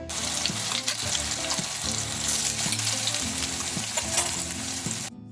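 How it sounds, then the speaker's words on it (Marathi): Garlic sizzles and crackles steadily in hot oil, a loud, continuous frying sound with occasional clinks of a utensil. "लसणाच्या फोडणीने लसूण लाल झाल्यावर मसाला घालू"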